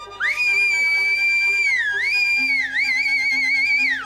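A long, shrill whistle that holds a steady high pitch, dips twice and rises again, loud and unbroken over a quiet background.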